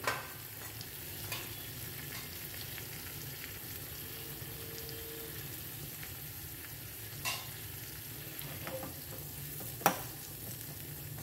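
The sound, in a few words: chopped onion and whole cumin frying in melted butter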